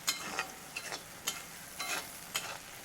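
Sliced onions sizzle steadily in a pan for an egg biryani while a spoon stirs them in repeated scraping strokes, each stroke a short brighter rasp over the soft continuous frying, with no voices.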